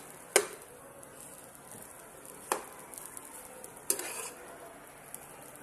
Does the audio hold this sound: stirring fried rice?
yes